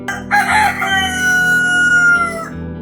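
A cartoon chicken crows loudly and clucks, a long drawn-out call standing alone over a steady background music bed, with no talking.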